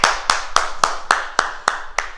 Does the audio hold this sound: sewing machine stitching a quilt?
no